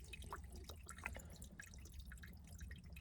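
Water from a small spring along the Appalachian Trail near Blood Mountain trickles and drips steadily into a container, close by and fairly quiet, with irregular splashy drips over a low outdoor background.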